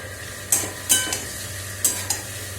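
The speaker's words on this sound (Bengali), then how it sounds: "এই যে আলু ভাজা বানাচ্ছি" Thin slices of potato fry in a pan under a quiet, steady sizzle, broken by four or five sharp scrapes and clinks of a spatula stirring against the metal; no one speaks.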